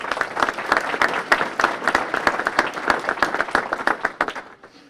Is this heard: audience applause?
yes